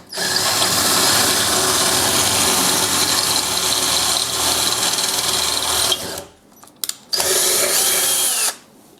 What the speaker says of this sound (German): Und jetzt bohre ich eben das große Loch nochmal nach.